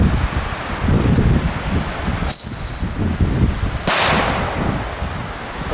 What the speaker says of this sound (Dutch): Oh ja, die wat duurdere knallers. Deze zijn met fluit als het goed is.